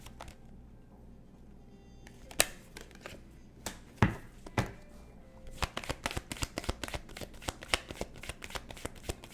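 Tarot cards are shuffled close up, first a few scattered riffles and taps, then a quick run of crisp, regular card snaps.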